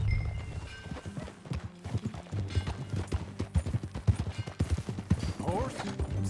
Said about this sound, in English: You're a good filly. Follow me. Let's ride.